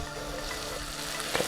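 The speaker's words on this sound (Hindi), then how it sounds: "अब फिर से इस तड़के को पका लीजिए करीब 3 से 4 मिनट तक मीडियम हीट पे" Steady frying sizzle of onion and tomato tempering in a pan over medium heat, a continuous crackling hiss with a brief stir or clink near the end; no voices.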